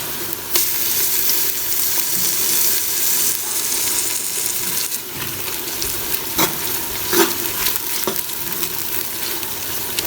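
Steady sizzling of onion with garlic-ginger paste frying in a pan, with occasional stirring clinks, continuous and close, no voices.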